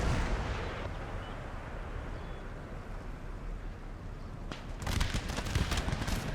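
Infantry musket fire sounds in an Empire: Total War battle (DarthMod, Dutch campaign). A dense, continuous rumble of battle noise gives way to sharper crackling volleys near the end.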